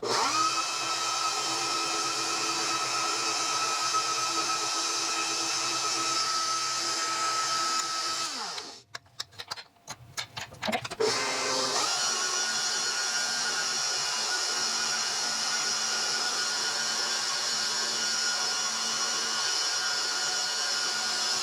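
A pasta roller machine runs steadily as egg noodle dough feeds through, a constant motor whine and hum that cuts out briefly midway with a few clunks before resuming at a slightly different pitch, close and unbroken by speech.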